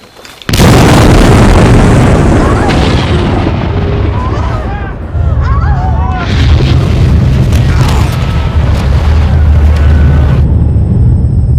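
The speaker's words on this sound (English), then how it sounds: "The eruption is still recorded up to this day as the loudest sound ever heard in the" Krakatoa volcanic eruption rendered as a loud, sustained explosive roar with deep booming rumble that holds steady for about eleven seconds, dipping briefly midway, with a voice talking over it.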